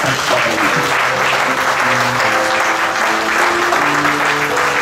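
A church congregation claps steadily through a French Easter Sunday service as the Lord is acclaimed, the dense applause running loud and constant with sustained musical tones beneath it.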